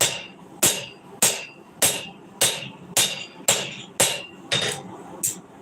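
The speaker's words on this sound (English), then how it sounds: "Just letting the hammer do its thing." Hammer planishing a metal knife blank to smooth out bumps, ten sharp ringing strikes at a steady rhythm of about two per second, close and clear with no talking.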